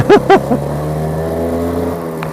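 A motorcycle engine blips twice in sharp, quickly rising revs, then settles into a steady, droning idle nearby.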